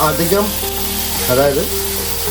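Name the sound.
chicken added to sizzling onions in pan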